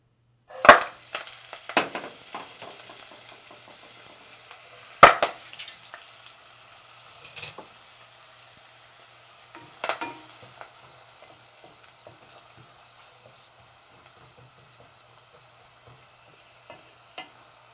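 Red onions and leeks frying together in hot oil for an Ethiopian fennel soup, a soft steady sizzle broken by a few sharp clatters of stirring, loudest near the start, with no talking.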